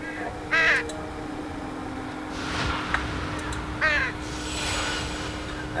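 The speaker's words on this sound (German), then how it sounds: "Vogel!" A raven caws in the Enigmatis hidden-object game: harsh croaking calls in three spaced bursts over a steady hum and soft ambient wash.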